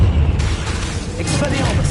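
A Confringo fire spell bursts with a loud boom and crackle in Hogwarts Legacy, set against busy battle noise.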